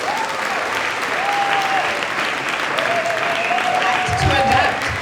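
An audience at a public pitch event in Leiden applauds after a pitch, with steady, moderately loud clapping that holds for the full five seconds.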